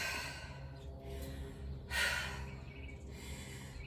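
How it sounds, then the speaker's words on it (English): Deep breaths are drawn and let out while resting between workout sets, a slow inhale followed by a stronger exhale near the middle, close and fairly quiet. "a few good deep breaths"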